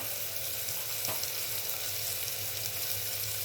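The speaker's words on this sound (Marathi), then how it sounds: "मी एक मध्यम आकाराचा कांदा आणि एक मध्यम आकाराचा टोमॅटो वापरला आहे आणि परतून घेऊया" Chopped onion and tomato sautéing in a pan for masoor curry, a steady close sizzle with faint spatula scrapes throughout, no voices.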